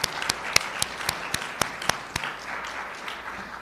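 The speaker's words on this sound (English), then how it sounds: "Let's give them all a big round of applause." A sparse audience applauding at a governor's press announcement of a Supreme Court nomination: a few sharp, distinct claps spaced out in a loose rhythm, fairly close, over soft room murmur, thinning out toward the end.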